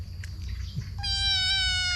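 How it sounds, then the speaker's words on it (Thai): A small black cat lets out one long, clear, high meow about halfway through, close and loud against a low background rumble, after a few faint scuffles. "มาดูแมวน้อย"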